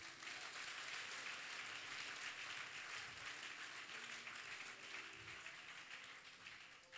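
A church congregation applauding together, steady dense clapping held at an even level for several seconds before easing off slightly, with no speech over it.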